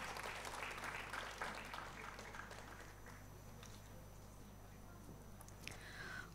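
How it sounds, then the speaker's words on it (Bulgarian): Audience applause following a choir concert in a large basilica, a sustained patter of clapping that gradually thins and fades, with a steady low hum underneath. "Аплодисменти."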